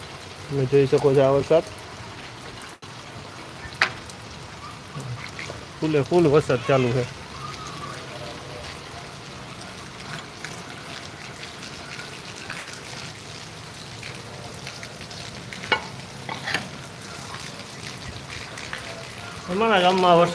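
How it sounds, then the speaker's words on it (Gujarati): Heavy rain pours down in Gondal with a steady, dense hiss throughout, broken by a few bursts of people talking near the start, middle and end. "વરસાદમાં અત્યારે ફૂલે ફૂલ વરસાદ ચાલુ છે"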